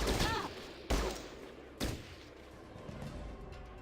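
Three shotgun blasts from the turn-based game Fallout Tactics, spaced about a second apart, each a sharp loud crack that trails into a fading rumble.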